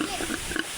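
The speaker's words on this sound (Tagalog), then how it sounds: "Yung baboy namin, inahing baboy namin." A sow on a backyard pig farm gives low grunting oinks over a noisy, continuous farmyard background, close by and brief.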